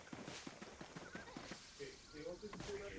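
A horse in the Black Desert video game trots with a quick, even clip-clop of hooves, fairly close. Voices talk over the later part as the hoofbeats fade.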